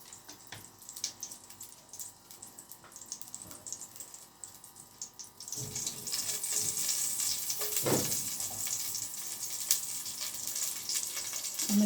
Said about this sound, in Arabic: وهنا هنحط شويه زيت عشان نحمر الشعريه بتاعت الرز